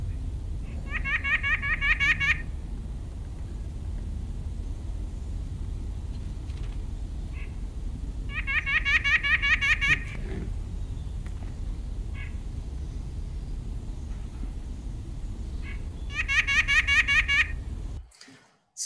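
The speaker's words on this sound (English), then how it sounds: "It's the white-breasted nuthatch." A white-breasted nuthatch gives three bursts of rapid nasal, laughing notes at intervals over a low rumbling background.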